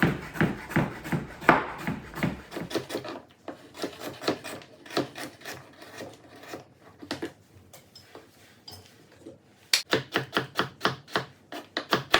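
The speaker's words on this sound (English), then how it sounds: "one of them's a little thicker, so I'm gonna cut it in half" A knife cutting a peeled carrot in half on a board, a run of close, sharp rhythmic chops and scrapes with quieter gaps, then a fresh burst of quick cuts.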